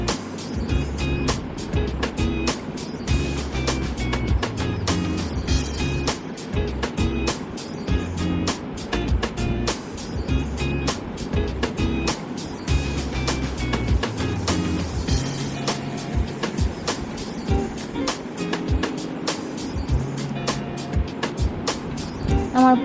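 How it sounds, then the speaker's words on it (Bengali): Palm fruit cake batter with Eno being beaten and mixed in a bowl, a rapid, continuous scraping and slapping rhythm that stays close and fairly loud throughout without pause. "এবার এটাকে ভালোভাবে মিশিয়ে নেব।"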